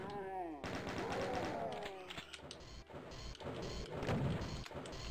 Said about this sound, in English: Now let's chain gun you guys.